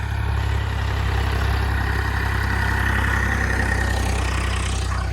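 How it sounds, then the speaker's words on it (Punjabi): A tractor engine at a farm field being prepared for laser land levelling, a steady low droning rumble that stays constant and close throughout, with no talking. "ਆ ਗਿਆ ਟਰੈਕਟਰ ਇਧਰਲੇ ਪਾਸੇ"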